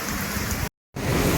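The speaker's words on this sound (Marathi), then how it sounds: "आणि असा पाऊस दाखवलाय" Steady rain falls and patters on surfaces, a dense even hiss that breaks off briefly and then resumes.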